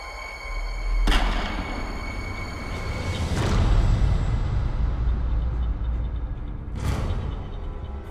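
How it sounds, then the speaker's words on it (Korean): Police gunfire on a protesting crowd in Jeju in 1947: three sharp, distant-sounding gunshots ring out a few seconds apart over a low, steady rumble. "비극의 서막을 알리는 총성이었습니다"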